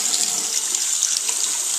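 A tap runs steadily over a Duluth Wild Boar moccasin boot treated with Sno Seal, making a continuous close hiss of splashing water with no voices.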